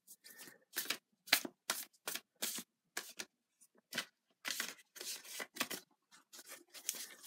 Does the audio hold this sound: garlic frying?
no